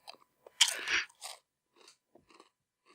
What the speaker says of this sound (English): Has a good crunch.